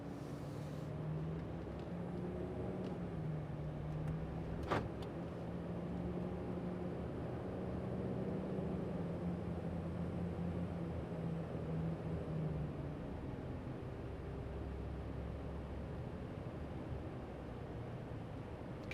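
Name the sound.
2020 Dodge Ram Limited diesel truck accelerating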